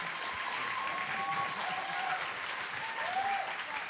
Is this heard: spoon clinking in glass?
no